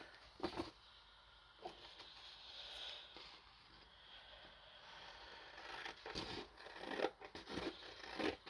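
Scissors snip away excess material while a custom Lustre Plaid Waterside tumbler is being finished, giving a few quiet close cuts and scrapes spaced apart over a faint steady background.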